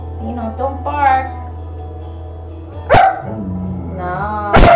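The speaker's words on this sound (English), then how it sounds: "don't bark" A dog barks in a few sharp bursts spread across the moment, loud and close, with brief yelps and whines between them over a steady low hum in a home where a hair-cutting session is under way.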